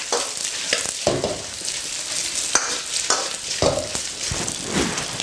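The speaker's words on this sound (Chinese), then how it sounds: "七成油温下五花肉煸炒。" Pork belly stir-frying in oil at high heat, a steady close sizzle with sharp clacks and scrapes from the spatula against the wok at irregular intervals, no voices.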